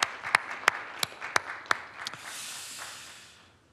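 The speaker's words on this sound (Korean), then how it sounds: "우리 힘차게 박수로 격려하겠습니다." A church congregation at an early-morning prayer service claps; a few sharp, evenly spaced loud claps lead into a brief softer burst of scattered applause that fades out.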